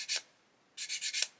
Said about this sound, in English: come along and sand that away, just like so